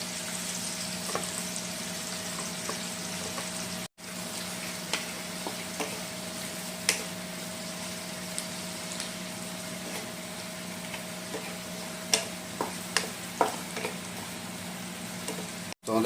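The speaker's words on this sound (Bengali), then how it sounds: "পেঁয়াজগুলো কিন্তু আমি 7-8 মিনিট হাই ফ্লেমে ভাজবো" Chopped onions frying on high flame in a pan for a pabda fish curry, a soft, steady sizzle dotted with scattered crackles and pops throughout.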